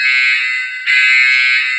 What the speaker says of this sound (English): if you need the alarm going off